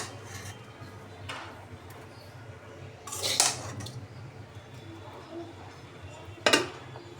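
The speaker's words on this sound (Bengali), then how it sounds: "কচুগুলো যেহেতু গরম, আমি একটা চামচ নিয়ে নিছি।" A metal spoon scrapes and clinks against a pot while mashing hot boiled taro for bhorta, with soft rubbing between a few sharper clanks near the middle and the end.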